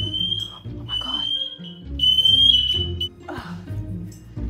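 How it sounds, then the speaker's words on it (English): A smoke alarm, set off by a smoky microwave oven cooking pork belly, sounds a steady piercing high tone that sustains through most of the stretch over low background sound. "I've never set the fire alarm off ever"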